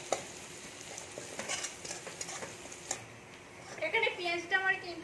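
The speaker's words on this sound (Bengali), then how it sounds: "পেঁয়াজটা ভেজে নেবো" Onions frying in a pan for a home-cooked dal and being stirred, giving a steady sizzle with scraping strokes throughout, while someone speaks over it and a clinking burst of stirring swells near the end.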